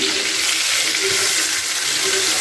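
Loud, steady sizzling of an onion, ginger, garlic and green chilli paste frying in a hot pan, a constant crackling hiss throughout.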